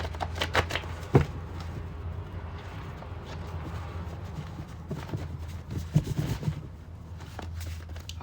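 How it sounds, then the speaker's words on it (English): Playing cards are shuffled close by in soft riffling bursts with scattered light taps, quiet and without talk. "I was trying to shuffle and this one was stuck"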